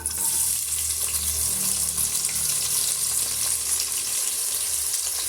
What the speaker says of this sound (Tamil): இந்த ஸ்டேஜில் நம்ம எடுத்து வச்சுருக்க வெங்காயத்தை வந்து நம்ம சேர்த்து விட்டுக்கலாம்.